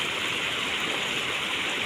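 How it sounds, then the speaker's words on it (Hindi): Fast floodwater rushes across a broken road in a steady, loud wash of turbulent water with no pauses. "पानी का बहाव बहुत तेज है"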